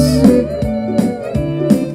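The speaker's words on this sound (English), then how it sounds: "If I were to play the sixth over each of these chords" Fiddle sounding the sixth above each chord of a country progression, three bowed phrases with sliding pitches over a steady drone, close and clear with no voices.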